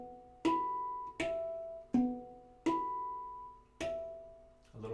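Five separate harmonics struck on the tone fields of a Halo Aegean handpan, at an even, moderate pace, each a clean metallic ping with shimmering overtones that fades before the next, followed by a brief softer touch at the end.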